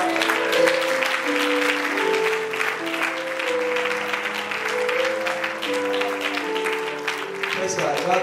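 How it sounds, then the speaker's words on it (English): A church congregation claps together during praise, steady sustained applause with a sung or spoken voice running over it throughout. "Can we clap with the Lord?"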